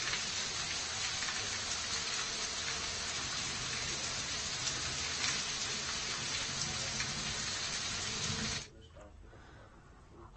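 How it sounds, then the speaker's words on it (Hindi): Heavy monsoon rain pours down steadily in an Indian district, a dense continuous hiss of drops on surfaces that runs loud for several seconds and then cuts off abruptly; no thunder is distinct. "शनिवार को जिले में सुबह से ही बादलों की गड़गड़ाहट के साथ झमाझम बारिश का दौर भी शुरू हुआ"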